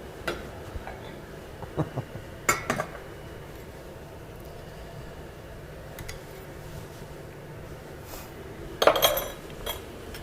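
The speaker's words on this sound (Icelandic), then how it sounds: "mér langaði síðan að nota þennan pott til að laga fyrir okkur sósuna" A cooking pot handled in a home kitchen while a sauce is prepared, giving scattered metallic clinks and knocks of pot and utensils, with a louder rattling cluster near the end over a quiet background and no speech.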